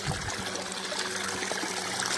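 Water trickles and runs steadily through a small outdoor drain feeding a forest water wheel, a close, continuous burbling flow with no voices.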